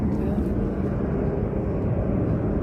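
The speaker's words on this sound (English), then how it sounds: "Ongoing amplification by plane activity that's heard inside of the apartment." A low-flying airplane over an apartment complex, heard from inside an apartment, gives a steady dense rumbling drone that holds at the same level throughout.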